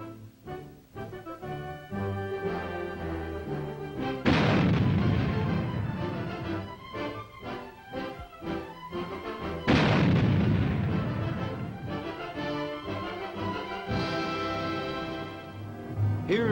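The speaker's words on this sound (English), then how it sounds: "This is the new self-propelled 90mm gun." A new self-propelled 90mm gun fires several loud, booming rounds in sequence, each blast followed by a long rumbling decay, with some background sound between shots.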